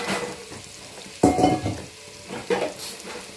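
Browned onions sizzle in a pan as ginger-garlic paste goes in for country chicken biryani, with a sudden louder hiss and stirring clatter of utensils, close by and without talk.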